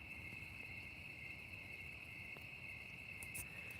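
Crickets chirp steadily through the night, a continuous high trill running unbroken and fairly faint over low background rumble, with no talking.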